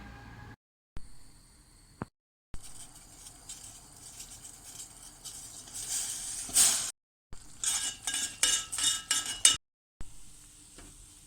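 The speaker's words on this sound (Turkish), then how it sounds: "2 adet yumurtayı tek tek kıracağız hamura iyice yedirelim" Eggs beaten into warm churros choux dough with a utensil, giving scraping, sticky stirring and light clinks against the pot in irregular bursts, with short silent gaps between them.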